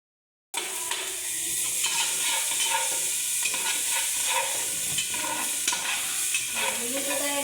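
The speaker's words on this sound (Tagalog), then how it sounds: "At ayan na nga, nagigisa na nga ako dito" Onion and garlic saute in oil and margarine, giving a continuous close sizzle that starts abruptly, with occasional stirring scrapes and a faint hiss over it.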